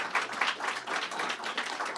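A press conference audience gives a round of applause, steady dense clapping heard from a distance at moderate volume with no talk over it.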